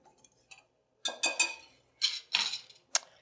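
A whisk knocks and scrapes against a bowl while flour, baking soda and ground cinnamon are mixed for giant oatmeal raisin cookies, in short close bursts of clinking separated by brief pauses.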